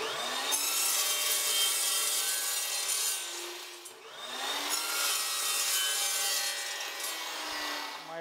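A hand saw cuts through aluminum angle stock in two long bouts of steady back-and-forth strokes, close and harsh with a ringing rasp.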